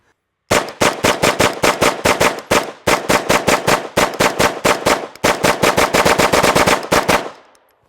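A Wilson Combat AR9G 9mm short-barreled rifle fires in rapid, close, loud strings of shots, bursts and near-continuous rattling runs from bump firing, ending with a short echoing tail.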